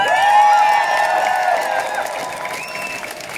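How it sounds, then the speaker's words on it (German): Crowd applause and cheering at a Pride rally on Graz's main square, a loud, close burst of clapping that slowly fades, with sustained whistles and whoops ringing over it. "Einen großen Applaus für die vielen Menschen, die das hier möglich machen."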